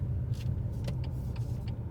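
A Volkswagen Golf passes on a street, a steady low engine and tyre rumble close by with a few brief higher clicks and hisses, no talking.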